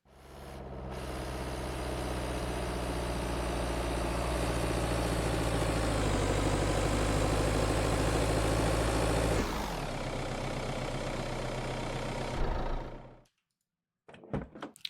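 A delivery truck's engine idles in Motel Manager Simulator, a steady, loud low rumble that holds for several seconds, shifts down after a door-like thunk, then cuts out, leaving near silence before a few faint knocks.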